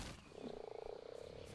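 Frogs croak in a swamp in the game Ark Survival Evolved, a rapid pulsing run of low croaks lasting about half a second, then tapering off, quiet against background ambience.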